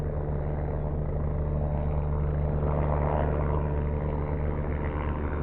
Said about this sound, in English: I'm looking at a helicopter that is below me in altitude.